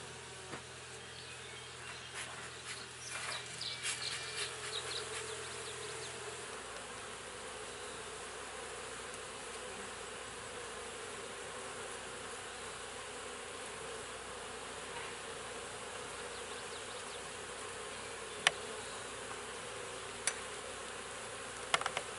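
Honeybees buzz steadily around an open hive during queen rearing with a Nicot cassette system, a dense, continuous hum of many insects close by, with a low background drone early on and a few faint clicks.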